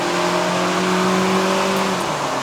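A 2012 VW Polo Sedan with a 1.6L engine accelerates uphill on a mountain road, its engine note holding a steady, loud, droning tone close by and rising slightly before easing off near the end.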